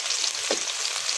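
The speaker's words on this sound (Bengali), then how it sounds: "তেল গরম হয়ে গেছে, পেঁয়াজ নিলাম।" Sliced onions hiss and sizzle in hot oil in a home kitchen pan for a chicken pilaf, a steady frying crackle with a faint stir partway through.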